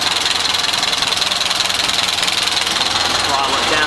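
A Ford Model A pickup engine runs close by at a steady, rapid idle, its uneven chugging and rattly knocking carrying loud and continuous throughout, with a carburetor that has been flooding.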